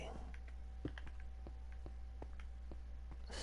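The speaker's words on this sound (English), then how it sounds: "if you hear my spastic clicking, that's just my controller" Rapid, irregular plastic clicks from a video game controller during Minecraft play, sounding like keyboard typing. The clicks come through faintly under a low steady hum.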